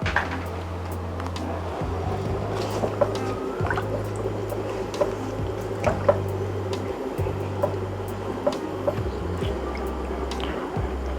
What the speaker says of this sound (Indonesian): sebetulnya ini adalah proses merebus sekaligus marinasi si ayamnya ini